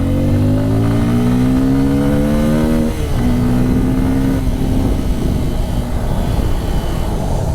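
A Bajaj Pulsar N250 250cc motorcycle accelerating hard on the road, a loud droning engine note that climbs, drops at a gear change, then pulls on amid heavy wind rush.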